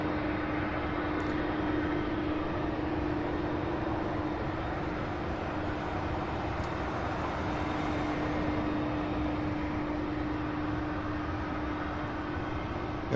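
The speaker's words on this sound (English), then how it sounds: "So this will make the third of many more UPS outbound takeoffs" A UPS cargo jet taking off at Louisville's SDF airport makes a constant, broad engine roar with a faint steady whine, unbroken for the whole stretch and without any voices.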